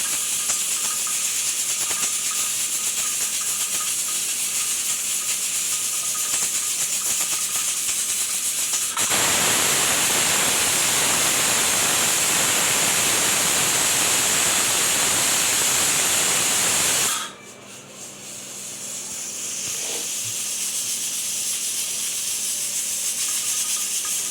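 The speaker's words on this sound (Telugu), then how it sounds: "అండ్ కుక్కర్ వెజిల్ కూడా వచ్చింది." A pressure cooker whistles off steam while spring onion curry cooks, a steady background hiss that swells into a loud, rushing burst for several seconds before dropping back to a softer hiss.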